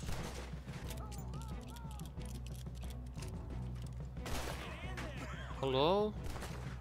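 Gunfire crackles in the Western game Red Dead Redemption 2, a scattered burst of shots mixed with game music and voices, and a player speaks over it.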